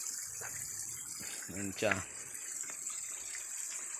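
Mineral spring water flows steadily from a pipe in a continuous, fairly faint gushing stream, with a person briefly speaking over it partway through.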